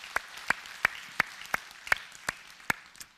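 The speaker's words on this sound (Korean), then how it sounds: "우리 축복하는 박수로 격려 한번 하겠습니다" Church congregation clapping in blessing and encouragement, a few scattered, sharp hand claps spaced about every third of a second, fairly faint and distant with no talking over them.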